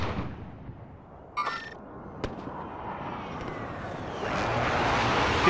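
Gunfire and explosions in Call of Duty: Warzone, a few sharp distant shots and booms followed by a swelling roar of rumbling blasts, heard without talking.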